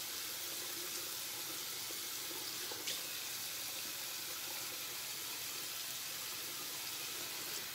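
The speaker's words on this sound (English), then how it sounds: "And then rinse it." Tap water runs steadily into a sink as wet hands are rinsed, a continuous close hiss and splash with faint shifts in the flow.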